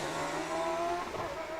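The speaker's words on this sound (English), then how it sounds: "Hopefully you could hear that car engine then." A hill climb race car at Wiscombe Park, its engine a loud, sustained roar with shifting tone, heard nearby without any talk.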